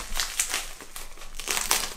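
Crinkling and crackling of heavily taped packaging around a new phone being pulled and torn, in quick uneven bursts close by.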